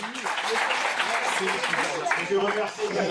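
Applause breaks out for the youngest participants of a French dictation contest, a dense steady patter of many hands lasting throughout, with voices talking over it.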